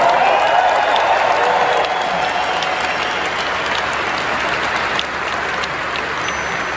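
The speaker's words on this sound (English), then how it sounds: "We need to give our host Portugal a huge warm cheer and round of applause." A large conference audience in a Lisbon arena at Web Summit cheers and applauds for host Portugal, loud sustained clapping with cheers that stays dense throughout, strongest at the start.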